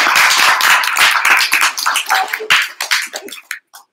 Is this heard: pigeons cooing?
no